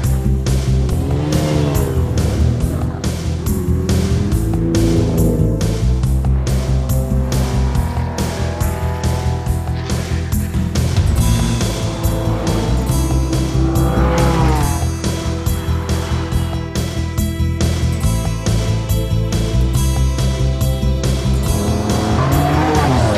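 Lamborghini sports cars race around a track, engines roaring loud and continuous with tire squeal and rising revs, though dense music-like harmonic layers blend through the whole stretch.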